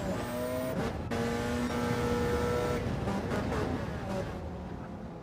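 A Porsche 919 Gr.1 prototype race car in a racing video game at the Nürburgring GP circuit on an out lap, its engine whining loud and steady with rising and falling gear pitches and brief shifts throughout.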